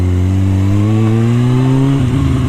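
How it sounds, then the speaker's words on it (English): A motorcycle with a faulty rectifier, out on a street test ride, its engine droning loud and close with a steady hum whose pitch slowly sinks as it eases off, with no talking. "I just wanted to take a ride and test the bike out on the street"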